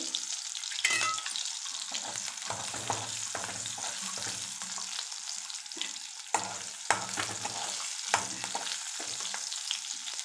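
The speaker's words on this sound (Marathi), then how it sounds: "तेलामध्ये घातलेल्या आहेत मिरच्या छान चटचडल्या आहेत" Chopped green chillies sizzle and fry in hot oil for a fasting-style potato dish, giving a continuous crackling hiss broken by scattered stirring clicks against the pan.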